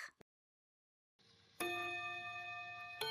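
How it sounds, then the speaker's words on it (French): A school bell rings out after a moment of silence, a sustained metallic ringing tone that rises in loudness, then holds with a fresh strike near the end. "le son de la cloche de l'école retentit"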